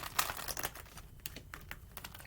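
Tarot cards are shuffled in quick, quiet bursts of soft riffling clicks and flutters, close and faint, with no talking.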